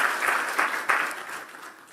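A church congregation claps together in steady, dense applause during a worship service, filling the whole short moment without any speech over it.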